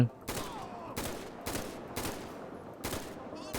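Rapid bursts of automatic gunfire in a GTA V zombie mod, five or six loud, close volleys spaced roughly half a second apart over low game ambience.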